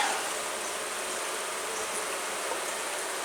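Dense, steady buzzing of many honey bees at an open hive fills the space, a continuous hum with no pauses and no voices.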